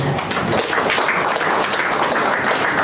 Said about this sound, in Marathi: टाळ्या वाजल्या पाहिजेत